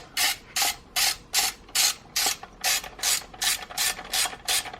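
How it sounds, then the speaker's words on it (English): A ratchet tightens two small 10mm nuts on the ECU bracket of a Saab 9-3, giving about a dozen evenly spaced, crisp clicking bursts close up, with no talking. "we can put our two little 10mm nuts back on that hold this bracket in place"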